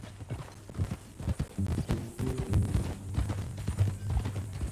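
Horse hooves clip-clop at a steady walking rhythm in the video game Red Dead Redemption 2, close and fairly clear over a low hum, with no voices.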